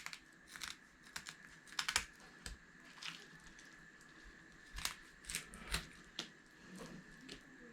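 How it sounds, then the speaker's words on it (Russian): Small scissors snip the fins off river fish, giving faint, irregular sharp clicks and crisp snips spread over several seconds in a quiet kitchen. "Берем вот такие ножнички и срезаем плавнички все."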